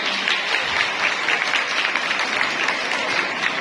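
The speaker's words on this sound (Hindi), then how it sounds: "तो जोरदार तालियां" A hall audience at a parish Women's Day gathering claps steadily in a dense, even wash of applause, fairly close and sustained throughout without speech.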